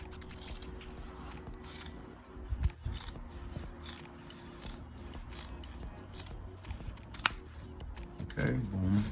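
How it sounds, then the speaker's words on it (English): Scissors snip away excess fabric around a sewn welt pocket, with repeated crisp cuts and rustling cloth at close range while a person talks quietly over the work. "you can cut off all this excess fabric that we don't need"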